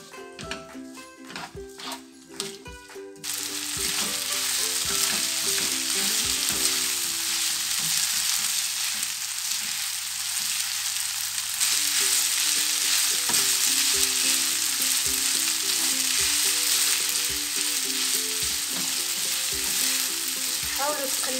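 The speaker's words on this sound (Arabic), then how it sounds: "ونحاول نقلي هاد العناصر كلها حتى يتقلاو عندي مزيان" A panful of vegetables with salt frying hard, a loud steady sizzle that bursts in after a few seconds of quieter clatter, with repeated stirring knocks and scrapes of the utensil throughout.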